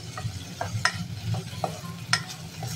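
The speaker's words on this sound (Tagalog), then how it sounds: "Hinigisa na yung sinalang bawang." Garlic sautéing in a pan for chicken adobo, a soft steady sizzle broken by repeated light scrapes and taps of a utensil stirring, with a low hum underneath.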